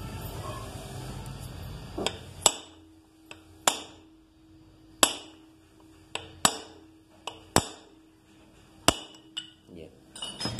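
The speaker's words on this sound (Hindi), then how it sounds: "ये हल्का सा हमने पंच कर दिया" A Honda CG 125 motorcycle's main stand pin is tapped with a hammer and punch, giving around ten sharp metallic clinks at irregular intervals, each ringing briefly, close and loud, with some low handling noise at the start.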